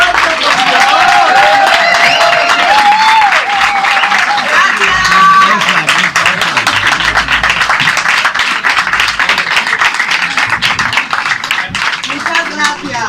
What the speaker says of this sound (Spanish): Pero un aplauso más fuerte, por favor.